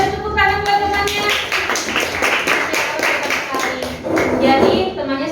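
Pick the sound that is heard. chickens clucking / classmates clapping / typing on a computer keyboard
classmates clapping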